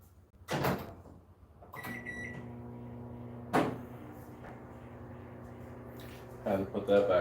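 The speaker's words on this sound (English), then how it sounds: "Had to put that back in the microwave for like a good minute" A microwave oven hums steadily at low volume after a door clunk and a short electronic beep, with more clunks and clatter near the end.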